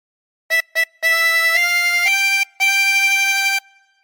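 A chromatic harmonica plays phrase 9 of the Star Spangled Banner: two short notes, then sustained tones that step in pitch, broken by one brief gap, clear and alone.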